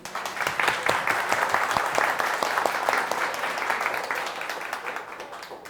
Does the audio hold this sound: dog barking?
no